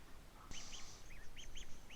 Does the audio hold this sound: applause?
no